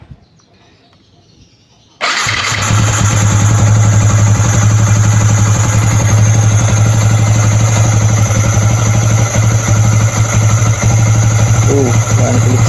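A Yamaha Sniper 150 motorcycle fitted with a UMA 32mm throttle body, engine still cold, starts after a couple of seconds of quiet, then settles into a loud, steady, even idle that continues to the end.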